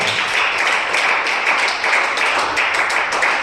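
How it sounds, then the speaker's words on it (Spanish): A church congregation applauds for Jesus Christ: dense, sustained clapping from many hands at steady loudness throughout, with no clear talk over it. "Denle un aplauso con todo su corazón al Señor Jesucristo."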